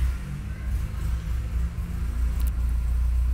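A VW Golf engine with FuelTech FT450 injection runs close and loud, a steady low rumble that settles into a smooth idle, with no voices.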